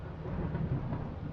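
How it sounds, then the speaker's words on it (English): A thunderstorm rumbles in the video game 112 Operator, a dense, steady wash of low rumble and rain-like noise, fairly quiet and without voices. "Ooh, a storm."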